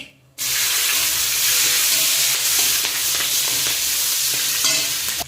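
Black and white mustard seeds with green chillies spluttering in hot oil for a spicy tomato and bhola fish curry, a loud continuous sizzle and crackle starting abruptly after a brief silence, with scattered pops, no talking.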